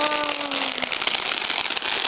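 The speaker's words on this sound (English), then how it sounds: "look at the fire" A burning fire crackles and roars in a dense, close, steady wash of noise with scattered pops; a brief falling whistle-like tone sounds at the start.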